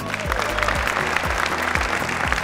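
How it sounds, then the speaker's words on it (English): An audience at a televised quiz competition applauds loudly and continuously, with a repeating low musical beat thumping underneath the clapping. "Yes, I like that round of applause."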